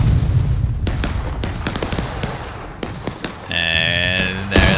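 A cannon firing canister shot in a Civil War battle video game: a sharp, loud boom cutting through a dense, crackling din of battle, with other gunfire bursts around it.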